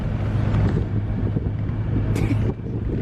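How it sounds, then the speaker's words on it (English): A Suzuki tows a Jeep by chain through snow, its engine giving a steady low rumble with wind buffeting the microphone and a brief higher whine near the end. "We are pulling the Jeep now behind the Suzuki with a chain."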